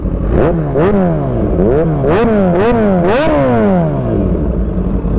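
A Kawasaki ZH2 motorcycle engine is revved hard several times in quick succession, each loud vroom rising and falling close by, with a whistle-like whine over the roar.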